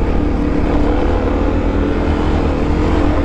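A Kawasaki KLX250 dual-sport motorcycle climbs a steep trail at full throttle, its engine a loud, unbroken roar that stays close and steady.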